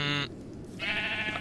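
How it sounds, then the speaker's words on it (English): In Minecraft's Tekkit Lite modpack, sheep give two clear, close bleats separated by a short pause, with no talk over them. "how about I kill a bunch of sheep first?"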